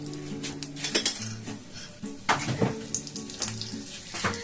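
Panch phoron spices crackle and sizzle in about four spoons of oil over a high gas flame while an egg omelette curry is cooked, with busy frying hiss, intermittent pops and a few metal clinks of pan and utensils.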